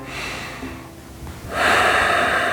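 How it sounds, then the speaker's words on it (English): Slow, audible breaths during a yoga pose, with ujjayi breathing: a steady airy exhale, a short pause, then a louder, rushing breath close by, with no talking. "Ujjayi breathing here, trying and relax despite the effort."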